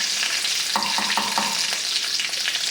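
Chillies and curry leaves fry in hot oil with a loud, continuous hiss, and a few short bursts of scraping or stirring come near the middle.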